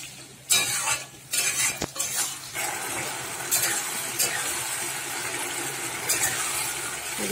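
A chili egg mixture is sautéed in oil, with close clinks and scrapes of a utensil against the pan over a continuous sizzle.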